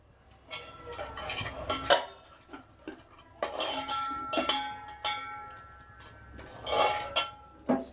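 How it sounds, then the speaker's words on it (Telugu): Metal utensils clink and scrape against a spice box, pot lid and containers in a kitchen, with scattered bright knocks and rattles over several seconds, close by and fairly loud. "పోపుల డబ్బా కూడా పైన పెట్టేసి మూత మంచిగా పెట్టేసి పెట్టి"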